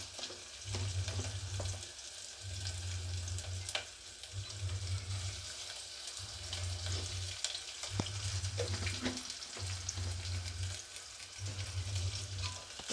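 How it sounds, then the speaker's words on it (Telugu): Ginger garlic paste sizzling in hot oil in a pan for a Telugu bottle gourd curry, a soft, steady frying hiss broken by regular spatula scrapes and stirring pulses, close and fairly quiet. "జింజర్ గార్లిక్ పేస్ట్ కొద్దిగా వేగనిద్దాం ఆయిల్లో."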